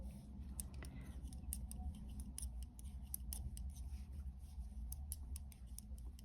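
Scissors make a series of quick, crisp snips cutting knitting yarn for a summer openwork blouse, close and clear over faint room noise.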